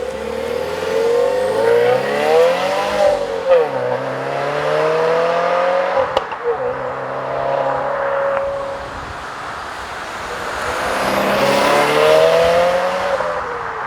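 A modified 2015 Subaru WRX with its FA20 engine and a 3-inch turbo-back exhaust accelerates hard in rising and falling waves of engine drone, revving up, easing back off, then pulling again. It is loud and steady with no talking.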